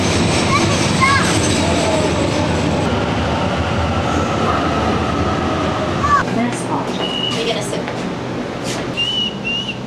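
A passenger train rolls along its rails near Sydney, with a loud continuous rumble and rattle heard from on board, and a few faint whistle-like squeals near the end.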